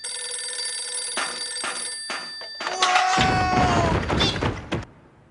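A telephone bell rings loudly and steadily, with a bright sustained tone. Several dull thumps and a crashing clatter land over it before it cuts off.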